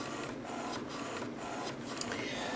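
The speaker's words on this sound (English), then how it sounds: "I've timed the print times on this printer." An HP Photosmart 385 photo printer runs a print job, giving a steady mechanical whir and hum with small shifts in tone as the paper advances, loud and continuous with no talking.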